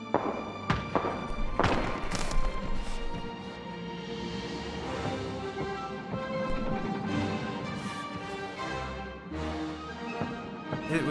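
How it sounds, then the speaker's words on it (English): Fireworks show in the video game Planet Coaster, with repeated thumping bursts and crackles spread across the whole stretch, layered over steady background music. "so this is my fireworks show"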